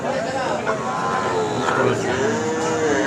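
A dairy cow with her calf at the Aricha cattle market gives a drawn-out moo over the steady murmur of the crowded market, with people talking close by.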